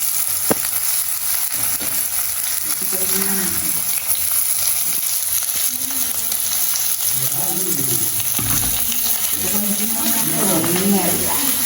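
Big onions fry in a pan for Jaffna-style prawn thokku, giving a steady sizzle with occasional stirring and faint water sounds, while voices talk over the cooking now and then.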